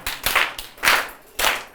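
Schoolchildren in a classroom clap for a girl in three short, separate bursts of applause spaced about half a second apart, moderately loud and close, with no talking.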